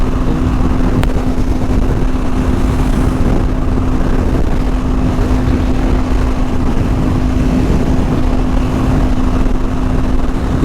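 A Honda CBR 250R motorcycle riding at night on a highway between Bangalore and Dharwad gives a constant loud engine drone with a steady whine and heavy wind rush, unbroken and close throughout.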